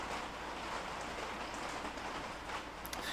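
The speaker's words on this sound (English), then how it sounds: "I love the sound of that rain." Steady rain falls outside a shop, a dense continuous hiss of drops on a surface, fairly loud and unbroken throughout, with no voices over it.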